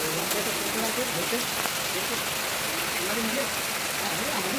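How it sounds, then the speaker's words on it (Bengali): Heavy rain pours steadily, a dense continuous hiss of drops on surfaces with no breaks. "এই দেখো তুমুল বৃষ্টি"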